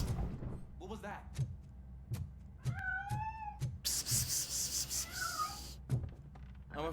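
A cat meowing in RoboCop Rogue City, two or three close, drawn-out meows among heavy thumps, footsteps and a burst of rushing noise.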